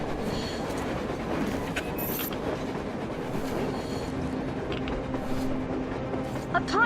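A train rolls across the surface in the Metro Exodus video game, its steady clattering rumble continuous and fairly close, with a brief high squeal near the end.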